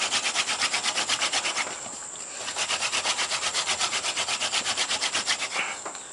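Wooden hand drill spun between the palms against a notched fireboard for friction fire, a fast, even run of rasping rub strokes, about five per second, close up with a brief break partway through.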